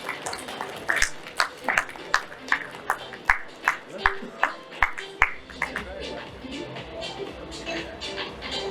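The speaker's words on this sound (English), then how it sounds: "Let's give them a bigger round of applause" Scattered, rhythmic clapping from a small audience at the inaugural session of a water conclave in Mumbai, claps spaced out in a slow beat and gradually thinning out rather than building into a roar.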